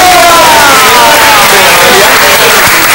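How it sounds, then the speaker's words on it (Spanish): A studio audience claps and cheers for a guest, a loud, close, continuous wash of applause with a voice rising briefly over it. "Te doy un fuerte aplauso para Noelia, por favor."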